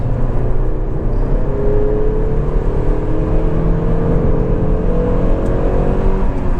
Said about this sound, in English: Suddenly the induction starts to make itself more noticeable.